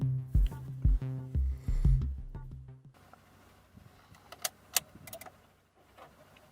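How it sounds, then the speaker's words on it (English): A car is keyed on, with a loud chime ringing in repeated tones and clunks, then quieter clicks and a few sharp key jangles close by. "we have to key the vehicle on, so we're going to do that."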